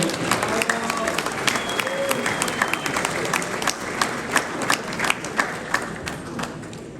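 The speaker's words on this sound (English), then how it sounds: "and give another applause," Applause from guests at a gala dinner in the Sheraton Hotel, Zagreb: sustained, moderately loud clapping with sharp individual claps standing out, under a murmur of voices.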